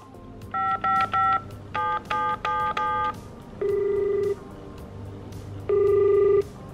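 A telephone number being dialed in a game, a rapid series of about seven crisp tone beeps in two quick groups, followed by two longer, steady ringing-style tones with pauses between.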